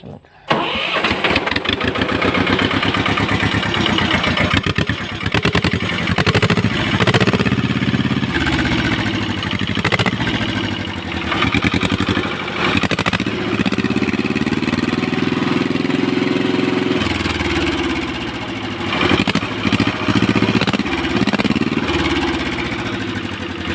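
A tractor engine with a homemade exhaust pipe rumbles and revs with a harsh, throaty exhaust roar, rising and falling over about twenty seconds, close to the listener.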